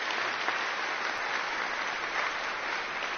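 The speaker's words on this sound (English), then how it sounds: "Let's give them a round of applause." Audience applause for newly named members at an awards day ceremony, a steady wash of clapping sustained for about three seconds without a break.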